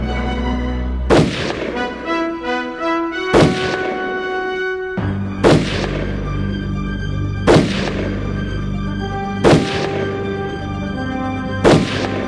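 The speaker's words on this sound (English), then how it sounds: "Simply aim at a fixed point on the ring and continue shooting until the ring is trimmed to your needs" A Winchester shotgun fires slugs at a buildup ring inside an industrial rotary kiln, six heavy booming shots spaced about two seconds apart, each with a long ringing decay over a steady background roar.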